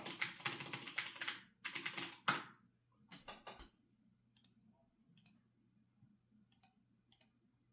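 Quick bursts of computer keyboard typing as a search term is entered, clustered rapid keystrokes followed by a few sparse, isolated key clicks, close and fairly quiet.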